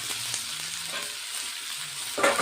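Green chillies being stirred and fried in a pan, a close, continuous sizzle with a few scraping stir sounds and a louder burst near the end.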